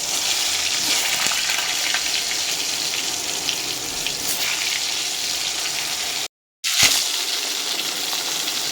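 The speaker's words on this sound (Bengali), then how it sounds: "এবারে আমি এক এক করে তেলের মধ্যে পটলগুলো দিয়ে দেবো" Pieces of pointed gourd dropped into hot oil sizzle loudly and steadily, a dense frying hiss broken by a brief silent gap before it resumes.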